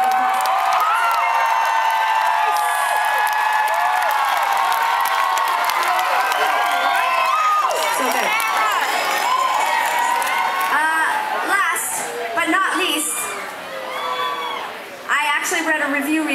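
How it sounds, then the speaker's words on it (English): A large outdoor concert crowd at NYC Pride Island, Pier 26 cheers, whoops and claps, a loud sustained roar with high shrieks and shouts rising and falling, some voices calling out. "Most enthusiastic round of applause."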